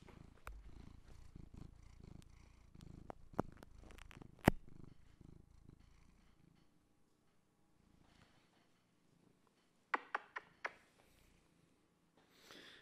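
A pet cat purrs softly and close by in a quiet room, with a low steady rumble broken by scattered sharp clicks and knocks.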